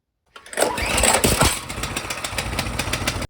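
A small mini bike engine with a broken pull starter is yanked, giving a sudden burst of rough mechanical whirring and clatter that sputters on briefly, close and fairly loud, with no talking.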